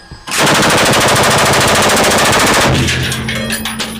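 A Leopard 1 tank's machine gun fires a continuous 20-round burst in a video game, loud rapid rattling that stops abruptly near the end and leaves faint ringing tones behind.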